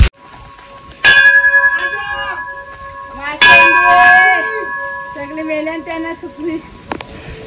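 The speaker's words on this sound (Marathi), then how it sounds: "इकडे घंटा वाजून जे कोण आहे ते आपण आपल्या माणसाला आवाज देऊ शकतो" Bells ring on Girnar hill in Gujarat, two loud clanging strikes about two seconds apart, each with a long ringing decay, and a third faint tap near the end, with people talking in between.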